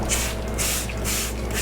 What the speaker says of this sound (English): Just give it some spray of this.